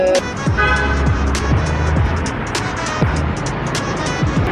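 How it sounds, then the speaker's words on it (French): Road traffic streams past continuously, with engine drone, tire noise and several vehicles whooshing by one after another at close range. "il y a beaucoup de voitures donc il y a un peu de bruit"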